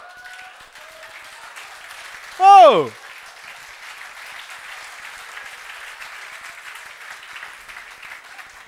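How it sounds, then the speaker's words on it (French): Audience applause at a TEDx talk in Algiers in 2011: a steady, moderate wash of clapping that runs throughout, with one brief loud exclamation rising above it partway through. "Vous avez trop applaudi, j'ai plus le temps."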